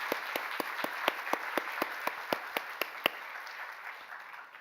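Church congregation at a youth service gives sparse applause, a dozen or so distinct slow claps standing out over a soft wash of clapping that fades out after a few seconds.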